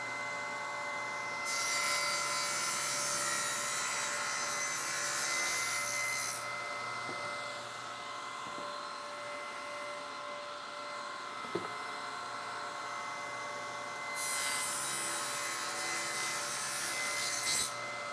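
A handsaw cuts wood for an armchair cheek cut in steady back-and-forth strokes, a continuous rasping that swells and fades as the stroke changes, close and fairly quiet, with no talk.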